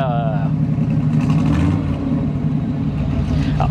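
An American car with a 350 Chevrolet V8 idles and revs at a car meet in Halden, a loud, deep continuous engine rumble close by with a rise in pitch, and voices talking over it.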